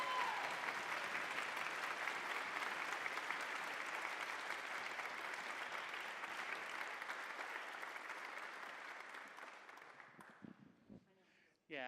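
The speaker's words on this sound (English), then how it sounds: "Give him a big round, there he is, round of applause" An audience at a community band concert gives sustained applause for about ten seconds, dense and even before it thins out and stops, followed by brief scattered noise.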